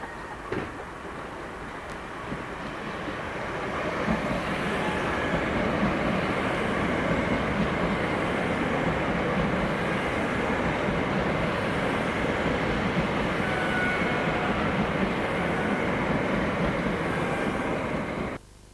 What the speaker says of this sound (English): The first of 8 Class 460s finally entered service on the Gatwick Express this summer